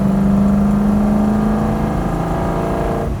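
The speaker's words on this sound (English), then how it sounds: "Now this thing, the Shelby GT500, can only make you smile. Just listen to it." A vintage Shelby GT500 V8 roars loudly up close as it revs and pulls, a strong steady engine drone that gradually eases off toward the end.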